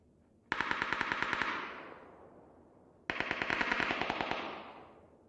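Two long bursts of automatic gunfire in PUBG, each a rapid string of sharp shots lasting about a second and a half before a fading tail, close and loud with no talk.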